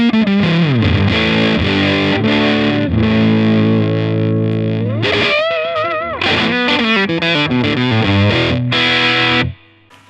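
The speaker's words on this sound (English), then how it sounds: "if I flip the little switch on the side, the LED turns blue, which means it's in fuzz mode" An electric guitar runs through an octave-up pedal switched to fuzz mode, giving a harsh, spluttery distorted tone as riffs and sustained notes ring loud and continuous before stopping abruptly.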